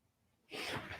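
One short, sharp sneeze erupts after a moment of near silence, loud and close with a breathy burst.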